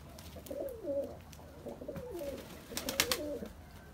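Pigeons coo softly nearby in a steady series of throaty, rolling calls, several bursts over a few seconds with faint rustling and a brief flutter toward the end.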